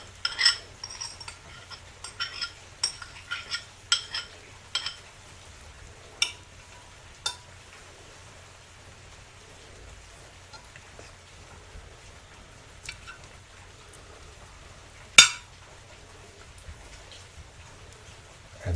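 Ground beef for a cottage pie being mixed in a pan, with a handful of soft utensil clicks and clinks at first, then mostly quiet with a single sharper clink near the end; no talking.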